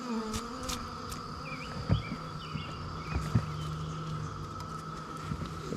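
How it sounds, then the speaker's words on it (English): Bees buzzing around an opened beehive during a spring honey harvest, faint steady droning with occasional individual bees flying close past. "So what we'll do is brush off the bees."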